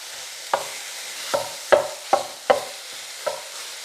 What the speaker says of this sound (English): Can you hear that sizzling? That's what you want to hear.